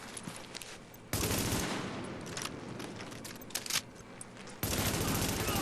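A weapon fires in Tom Clancy's The Division in heavy sustained bursts, loud and dense with crackling shots, with a brief quieter gap before firing resumes near the end.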